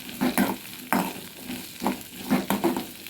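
Ivy gourd (kovakkai) frying in oil in a pan, a close, loud crackling sizzle broken by repeated scraping stirs at an uneven rhythm, with no voices.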